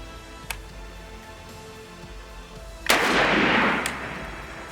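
A shotgun firing a turkey load at a target booms once, loud and close, followed by a broad rolling echo that fades over about a second, with a faint click a few seconds earlier.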